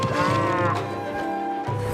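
Ushi, the bull summoned by Arataki Itto in Genshin Impact, gives a loud, sustained low moo lasting nearly two seconds, with a brief dip and a fresh swell near the end, heard alone with no talking.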